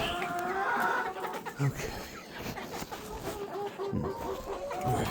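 Chickens clucking inside a coop on a frigid Ohio day, with steady fowl chatter and a few louder clucks throughout, while a person speaks briefly nearby.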